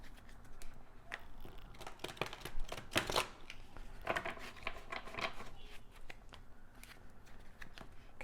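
Stiff, fairly new tarot cards are shuffled repeatedly, giving bursts of papery riffling and flicking, close by with no talking.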